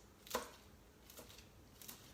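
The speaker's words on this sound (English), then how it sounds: "So that's why it's perfect for chopping up this lettuce." A non-metal knife chops lettuce for spring rolls, giving three crisp cuts against a board, the first sharpest and the later two softer, close and alone in a quiet room.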